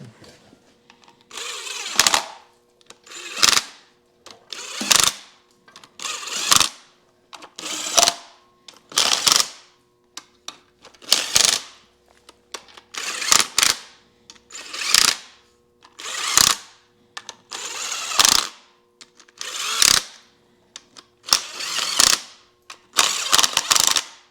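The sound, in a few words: socket ratchet snugging up bolts on a Farmall Super M engine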